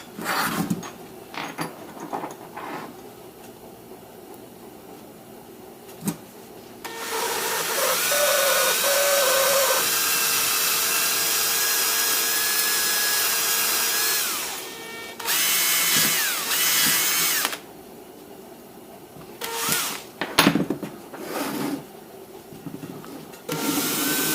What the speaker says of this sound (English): It's an old Panasonic drill. It's about wore out.